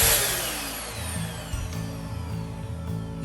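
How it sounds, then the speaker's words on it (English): The vacuum on a vacuum forming machine, used to shape plastic for an RC car stand, roars loudly and continuously with a steady humming drone throughout. "So the vacuum is really loud."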